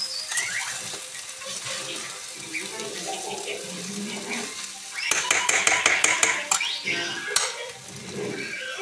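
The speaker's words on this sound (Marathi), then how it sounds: "मीठ टाकल्यावर पूर्ण घोलून घ्यायचं असं" Salt being stirred into a sabudana khichdi mixture in a pan, with wet scraping and clinking stirs that turn into a quick run of rapid spoon strikes toward the end, close and under faint background noise.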